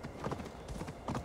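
Hooves clip-clop in a quick, even rhythm of a horse moving along in the video game Assassin's Creed Valhalla, close and clear, with no one speaking.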